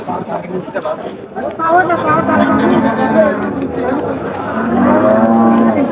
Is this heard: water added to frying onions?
no